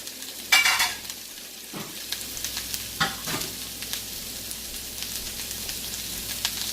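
Shrimp for fried rice sizzle in a hot pan until browned, a steady close crackle broken by a few spatula scrapes and knocks against the pan, with no voices.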